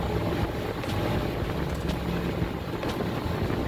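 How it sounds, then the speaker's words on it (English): Steady, loud rumble of twin Suzuki four-stroke outboard engines on a 2006 Sea Chaser 2400 CC boat accelerating past 40 mph, with rushing water and wind noise throughout. "You lay those throttles down and you pick up speed really quick."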